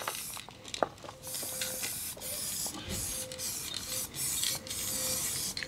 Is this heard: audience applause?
no